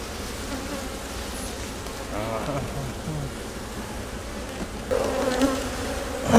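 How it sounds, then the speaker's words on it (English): Honey bees drone in a dense, continuous buzz from an over-wintered hive box close by, with brief rustling and handling noises from the hive inspection rising near the end. "That's a box of bees, folks."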